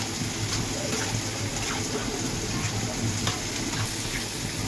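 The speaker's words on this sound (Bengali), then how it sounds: "আমার এই খুদের পোলাওটা একটু হয়ে আসছে, নাড়া দিয়ে দিচ্ছি" Khud pulao, a broken rice pilaf, sizzles steadily in a pan while being stirred, giving a continuous moderate frying hiss with soft scraping and clinking underneath.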